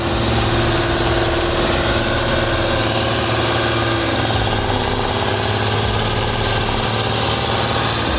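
A T150K tractor, in production since 1971, runs with a steady, loud engine drone, a constant idling hum with heavy low rumble and vibration throughout, no voices.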